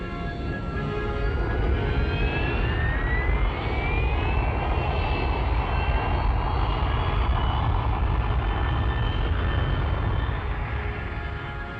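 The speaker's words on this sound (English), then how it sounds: "the plane is down, it taxis in under the trees to leave the landing area clear" A 1965 Hawker Siddeley Kestrel VTOL jet taxis in under trees at an unprepared field site, a loud sustained turbine roar and rumble with a rising whine, steady and close throughout.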